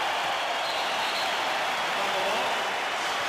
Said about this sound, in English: now the crowd will give the Bulls a standing ovation